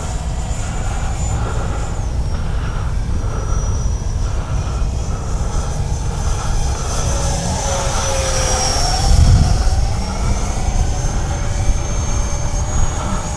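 A small 50mm EDF L-39 Albatros RC model jet flies past at a club field, its steady ducted-fan whine holding throughout and swelling slightly as it passes closest, then easing off.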